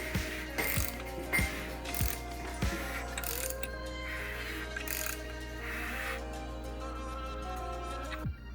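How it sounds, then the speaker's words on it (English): A torque wrench ratchets as bolts are tightened on a 4.6 WAP-block engine built for 1000 hp, giving a close, steady series of sharp clicks at regular intervals, about seven strokes in a row, with no talking. "We just got our bolts in, got a torque wrench out."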